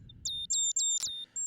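Synthetic birds in a Songbird program chirp in a quick series of clear, high, whistled tweets, several short bursts close together, bright and isolated over faint background hum.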